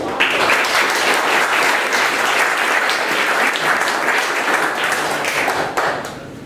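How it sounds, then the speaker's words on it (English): An audience at a startup pitch event in St. Petersburg, Florida, breaks into loud sustained applause, dense clapping that holds steady for several seconds before starting to fade near the end. "Rupert come up here with Burn Game Ventures, so please give him a round of applause."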